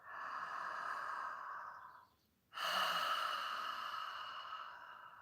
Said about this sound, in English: I'm going to inhale through my mouth.